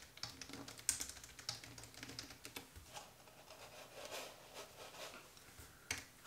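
Soft, quick keystrokes patter on a computer keyboard while a new name is typed in, close and fairly quiet, in a few short irregular bursts with no talking.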